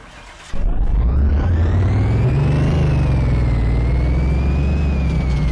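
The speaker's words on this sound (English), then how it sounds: "Oh, listen to that engine." A supercharged Chevy Corvette C4 engine in Car Mechanic Simulator 2018 fires up on a dyno after a short quiet lead-in, then holds a loud, steady roar with a slow rise and fall in pitch.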